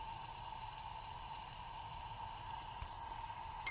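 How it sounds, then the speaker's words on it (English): Water boiling steadily in a heated vessel while a hydrate crystal sample is driven dry, a faint continuous bubbling hiss with one small pop near the end. "you can even hear the sound of the water boiling"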